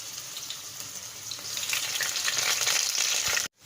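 Onion and garlic frying in hot oil in a pan for a potato curry, a bright crackling sizzle that swells and intensifies midway, then cuts off abruptly near the end.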